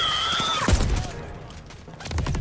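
Type 100 submachine gun firing in a video game, with rapid bursts of gunfire that swell loudly around the middle and pick up again toward the end, over busy game noise.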